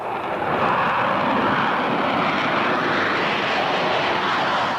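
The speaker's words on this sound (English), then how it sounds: "It's the ATF, Advanced Tactical Fighter" The F-22 Raptor Advanced Tactical Fighter jet roars steadily and loudly, a broad continuous engine rush with no voices over it.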